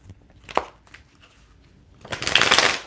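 Tarot cards being shuffled by hand, with a soft riffle and a few light taps early on, then a louder, dense flurry of fluttering card noise near the end.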